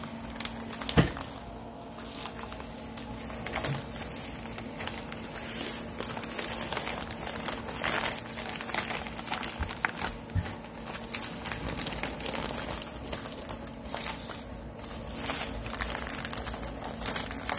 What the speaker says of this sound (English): Now we're going to go ahead and just start wrapping this thing up.